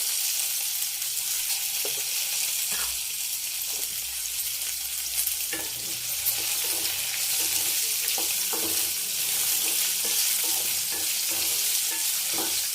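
Cumin seeds and four dried red chillies crackle in hot oil for a coconut chutney, a dense, bright, unbroken sizzle with faint spoon taps and stirring knocks throughout and no talk.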